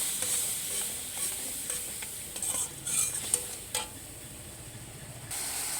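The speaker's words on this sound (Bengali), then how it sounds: "এবার মশলাটাকে আমি ভালো করে কষিয়ে নেব।" Spice masala loosened with a splash of water being sautéed and stirred in a pan for a soybean, egg and potato curry, giving a soft steady sizzle broken by a few sharp spoon scrapes and clinks, with no voices.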